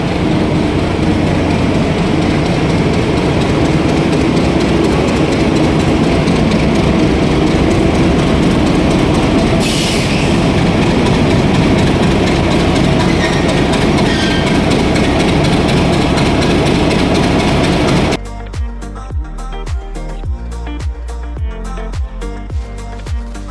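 A train engine at Kamalapur railway station in Dhaka, where locomotives are swapped, rumbles loud and close in a heavy continuous drone, then gives way to rhythmic music near the end.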